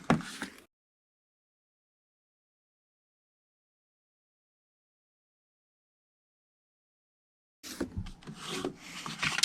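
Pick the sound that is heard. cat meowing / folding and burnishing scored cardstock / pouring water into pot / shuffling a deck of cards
folding and burnishing scored cardstock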